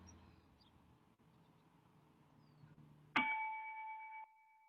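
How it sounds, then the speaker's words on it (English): A single bell strikes sharply and rings with a clear sustained tone for about a second before stopping abruptly, following several seconds of quiet room noise, with no talk. "It's a bell. I hear a bell."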